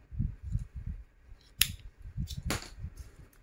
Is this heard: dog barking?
no